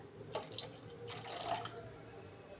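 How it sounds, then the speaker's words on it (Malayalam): Water is poured into a pot of fish curry, a soft splashing trickle in two short bursts, fairly quiet in a home kitchen. "ഇനി നമുക്കതിന് ആവശ്യത്തിന് കുറച്ച് വെള്ളം ഒഴിക്കാം"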